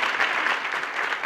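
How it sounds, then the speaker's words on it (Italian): A television studio audience applauds Claudio Lippi on a 1975 variety show, giving a short burst of brisk, steady clapping at moderate volume with no talk over it. "Facciamo un bel applauso a Claudio Lindsay che si merita"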